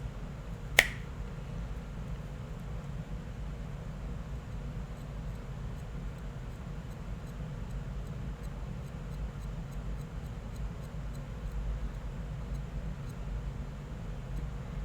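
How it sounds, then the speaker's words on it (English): A single sharp finger snap near the start, close and distinct, then a long steady hum of background noise with no further snaps. "I'm going to snap my fingers, and then you tell me when y'all hear it."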